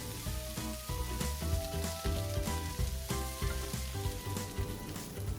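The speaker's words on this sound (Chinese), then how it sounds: "翻炒的时候呢，可以用铲子将青椒轻轻地拨开，确保它们在锅里均匀地受热。" Shishito peppers sizzle and crackle steadily in a hot pan over medium heat while being stirred, a loud, continuous frying hiss with clattering utensil sounds throughout.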